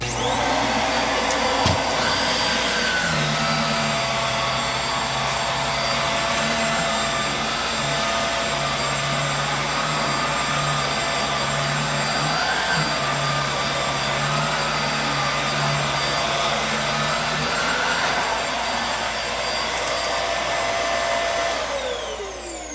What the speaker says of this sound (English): I'm going to do these rugs as well with this vacuum and see what we can pull out.